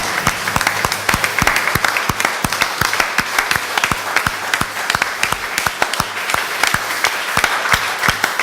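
A church congregation applauding during worship, a dense, steady run of close, loud hand claps that continues evenly throughout.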